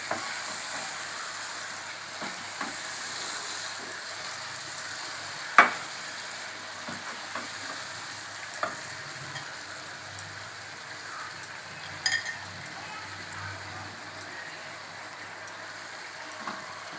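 Marinated chicken pieces sizzling and frying in oil with spice paste, a steady crackling fry close by with occasional sharper pops and stirring clicks, no talk.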